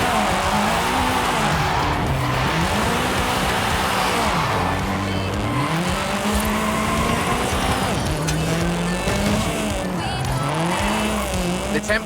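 Tyres squeal and howl under a revving engine as a car drifts down a runway in Forza Horizon 5, with the pitch sweeping up and down through long slides. The sound is loud and continuous, with a voice talking over it.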